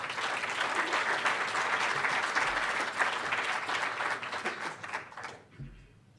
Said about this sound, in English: I'd like to have you give a shout out and a clap